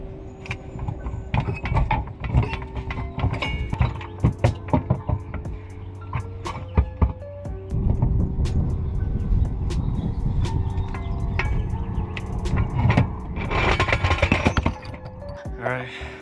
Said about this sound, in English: so I'm pretty much ready to drop the diff